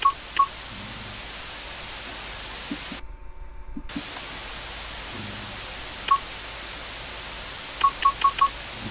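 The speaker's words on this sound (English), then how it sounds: "put the telephone receiver on the modem to connect to the network." Modem dialing in the PC game Commander '85: crisp touch-tone beeps at the start and end around a hissing static connection noise, cut by a short dropout in the middle.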